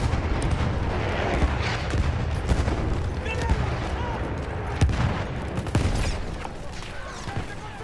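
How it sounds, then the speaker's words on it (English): An enemy artillery barrage in Battlefield 1 Rush mode, a dense continuous roar of explosions and gunfire with scattered sharper blasts throughout, game voices faintly underneath. "Wait for the enemy artillery barrage to stop firing"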